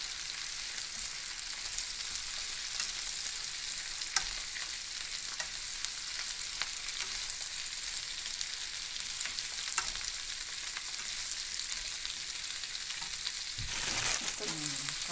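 Yakisoba noodles stir-fried in a home kitchen pan give a steady, close sizzle that runs throughout, with a few light scrapes and stirring knocks, swelling slightly louder near the end.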